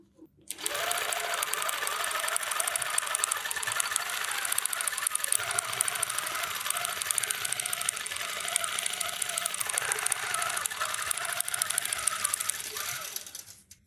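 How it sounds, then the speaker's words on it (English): Computerized quilting machine stitching fabric, a steady fast mechanical needle chatter with a whirring motor that runs continuously at close range for about thirteen seconds, starting and stopping cleanly. "And let's go ahead and sew."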